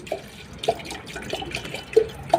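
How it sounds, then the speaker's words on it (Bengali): Water poured into a tea kettle makes soft splashes and a few bright drips, close and fairly quiet, in short uneven bursts. "আমাদেরকে একটা চায়ের কেঁতলি দিয়ে গিয়েছে এবারে আমি এতে পানি ঢালবো"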